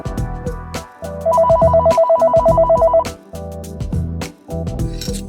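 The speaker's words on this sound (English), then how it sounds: "y'all just heard the phone ring, right?" A telephone rings in a rapid electronic trill for about two seconds, heard over loud rhythmic music with steady beats.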